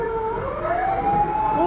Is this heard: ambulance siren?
yes